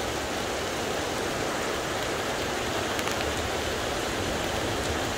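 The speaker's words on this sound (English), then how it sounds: "We love the rain, the thunderstorms." Steady, dense rain pours down during a Florida thunderstorm, an even broadband hiss that holds at the same level throughout with no voices and no distinct thunder.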